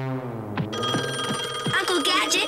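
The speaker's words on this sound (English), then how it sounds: "Uncle Gadget, that's the top secret gadget phone." The top secret gadget phone in the classic Inspector Gadget cartoon rings with a loud, repeated electronic bell trill that starts partway in and continues to the end.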